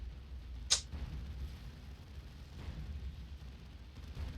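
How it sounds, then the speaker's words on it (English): A single sharp tank-gun shot fires in the strategy video game Dawn of War II, a brief, loud crack standing out over a low rumbling battlefield bed, followed by a fainter echo. "I love the sound of the tank gun."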